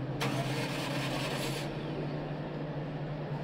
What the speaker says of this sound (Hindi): गाड़ी स्टार्ट नहीं हो रही